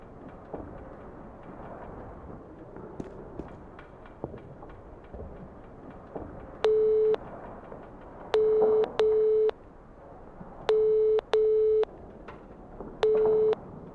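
In the NiBiRu adventure game, a phone call from the hotel reception desk produces a ringing tone in regular paired bursts after a few seconds of quiet background hum.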